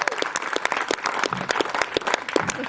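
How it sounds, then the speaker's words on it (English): Applause from an audience at a Bay Area Think Together fundraiser, steady dense clapping at close range throughout, loud and continuous with no voices over it. "Let's give Sindhu a round of applause"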